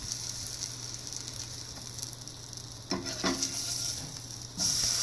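Vegan French toast frying in a pan, a steady soft sizzle throughout with a few clatters of a utensil against the pan near the end; no one speaks.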